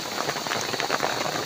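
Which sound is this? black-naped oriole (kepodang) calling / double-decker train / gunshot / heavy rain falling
heavy rain falling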